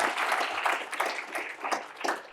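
An audience at a student symposium debate claps after a speaker finishes, a moderate, somewhat distant wash of applause with gentle swells, no talking over it.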